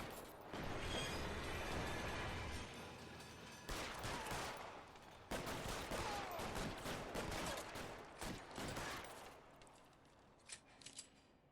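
Gunfire in the video game L.A. Noire, with bursts of rapid shots and heavy reports that come and go over several seconds before tailing off into a few scattered pops.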